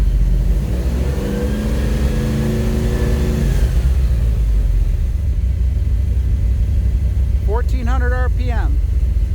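A car engine fitted with a Holley Sniper throttle body and a sticking throttle revs, the pitch sliding up then easing down over a steady rumble, with a voice speaking briefly toward the end.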